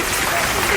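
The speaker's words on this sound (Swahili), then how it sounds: "Wapi makofi ya Wamunyota tena?" Brief burst of audience applause, a dense steady clatter of many hands at close range.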